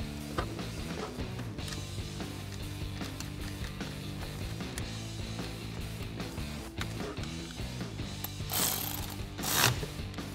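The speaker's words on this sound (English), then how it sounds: "we're gonna take off this lug here, this nut" A ratchet fitted with a 10 mm socket clicks rapidly and steadily while taking off a nut on a Ford Bronco during light bar installation. The sound is close and fairly faint, with a couple of sharper metallic knocks near the end.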